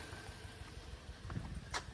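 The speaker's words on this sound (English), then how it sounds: "it's misfiring. You can see the engine is shaking" A misfiring car engine idling faintly with an uneven, stumbling pulse, the whole engine shaking, with a couple of brief clanks near the end.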